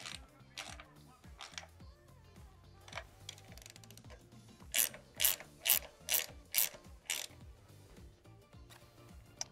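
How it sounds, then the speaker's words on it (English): Socket or box wrench ratcheting as 15mm axle nuts are tightened on an XPLR flat-bar off-road electric bike, a run of six sharp, evenly spaced clicking bursts following softer scattered mechanical taps, fairly close. "we're gonna take our 15mm box wrench or socket wrench and tighten those axle nuts down"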